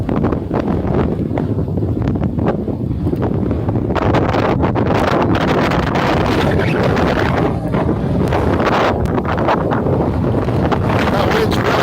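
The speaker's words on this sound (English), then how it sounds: "That wind's really big now." Strong wind buffets the microphone on a frozen lake during ice fishing, a loud continuous roar and rumble gusting unevenly throughout, with faint voices underneath.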